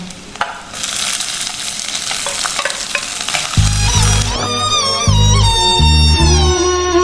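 Capsicum, curry leaves and ginger fry in a hot pan, crackling and spattering loudly and continuously with stirring scrapes; the sizzle grows denser and more intense partway through, with no one speaking.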